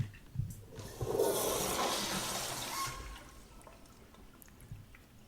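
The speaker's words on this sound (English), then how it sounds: "Toilets are not made to flush balloons." A toilet flushes balloons, giving a gushing, swirling rush of water that rises after a couple of knocks and then fades into trickles and drips.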